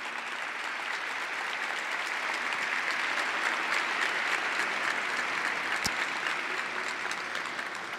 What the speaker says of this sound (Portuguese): Palmas para a Fernanda também